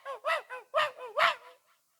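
A voice imitates a dog barking in a series of about five yelping, bark-like bursts over two seconds, close and fairly loud, fading to a faint final yip, with no other talk.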